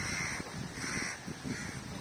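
Crows in the mangroves on Pulau Ubin, Singapore, give a series of rough, repeated caws at an even rhythm over a soft ambient background. No voices are heard.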